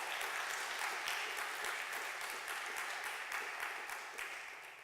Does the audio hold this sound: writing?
no